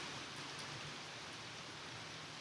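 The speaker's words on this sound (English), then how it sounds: "The rain done picked up" Rain falling outdoors, a dense, even hiss of drops that holds steady throughout with no breaks.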